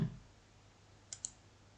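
A computer mouse gives two quick, soft clicks close together in an otherwise quiet room.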